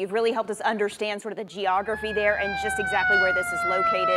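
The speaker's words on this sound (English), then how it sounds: "You can hear a siren now in the background" An emergency vehicle siren wails faintly in the background during live news coverage of a growing wildfire in Hood County, Texas, rising in from the midpoint under continuous studio talk.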